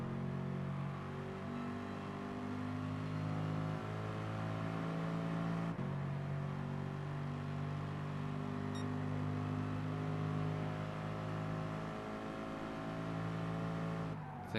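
A Subaru BRZ race car engine in Gran Turismo Sport drones steadily at high revs, loud and continuous, holding the pitch with a brief dip partway through and no talking.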